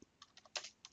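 Quiet, close clicking of keys on a computer keyboard, a quick uneven run of taps over about a second, with no voices.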